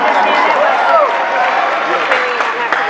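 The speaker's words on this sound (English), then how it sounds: "Let's give David a round of applause." Audience applause at a live seminar event in Las Vegas, a loud, close wash of clapping and crowd noise with cheers cutting through, and a voice speaking over it.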